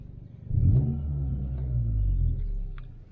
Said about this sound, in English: if I were to rev my car, let me just open up the window so that you guys can hear